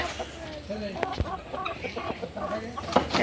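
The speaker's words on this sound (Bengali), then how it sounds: "মুরগিগুলোকে এখন ছাড়া হবে" Hens and chicks in a backyard cage about to be let out: a busy run of close clucks and short calls repeating throughout, with faint voices murmuring in the background.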